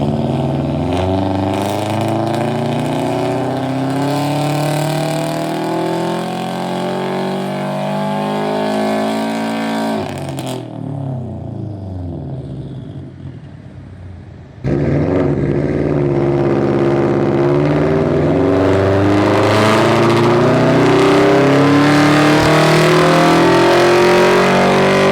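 A Subaru STI engine revs hard and loud on a dyno for a long pull, pitch climbing steadily, drops off briefly, then roars back at full volume.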